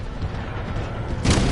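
A rocket explosion in Titanfall 2 bursts in at the end, a sudden loud broadband blast over a low rumbling game background.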